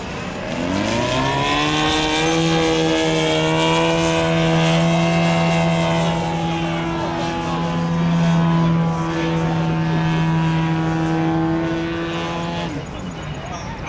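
A 50% scale Christian Eagle model airplane engine drones loud and steady through aerobatic turnaround maneuvers at an air show field, its tone swelling and easing as it pulls up over the top and comes back down.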